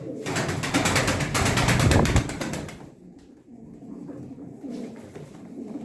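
Pigeons coo softly amid a busy flutter and rustle that fades after a couple of seconds, leaving low cooing over quiet background.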